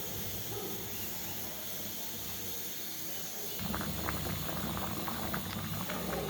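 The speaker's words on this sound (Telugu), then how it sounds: "చూడండి పులుసు కుత్తలాడుతుంది కదా." Tamarind stew (pulusu) with yam simmers in a pot, giving a steady soft bubbling and gurgling that grows livelier and more popping partway through.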